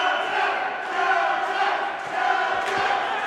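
Crowd noise fills a wrestling arena during a weekly pro wrestling show, a continuous roar of cheering that swells and dips and carries on without a break.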